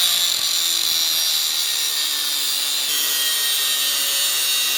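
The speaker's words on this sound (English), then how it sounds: "So let's grab our angle grinder and start cutting" An angle grinder cuts steadily through OEM wheel studs on a Nissan S13, a loud, continuous high-pitched metallic whine with a slight shift in tone partway through and no talking.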